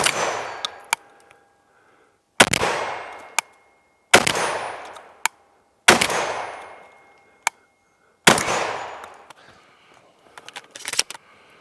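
Shotgun firing Fiocchi dynamic target loads with 7.5 shot at 1250 feet per second, outdoors: five loud, sharp blasts spaced about two seconds apart, each with a ringing decay, plus metallic clinks of the action and a few quick clattering knocks at the end.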